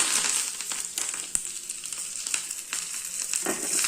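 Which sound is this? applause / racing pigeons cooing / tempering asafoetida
tempering asafoetida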